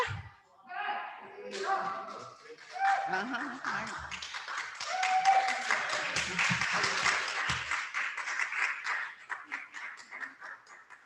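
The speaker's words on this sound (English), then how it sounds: "I want you to give them a round of applause" Scattered clapping from a crowd at a sculpture fundraiser builds into steady applause, with voices and cheers mixed in throughout, fading slightly toward the end.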